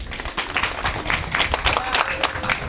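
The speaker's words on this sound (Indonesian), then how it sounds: "Kita berikan tepuk tangan yang meriah untuk Aden." A school audience claps for a student named Aden after a folk tale performance, a steady mid-sized patter of hands filling the room without pause.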